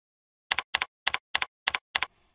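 Typing on a computer keyboard: six crisp, evenly spaced double-clicking keystrokes in a quick rhythm, close and clear in an otherwise quiet room.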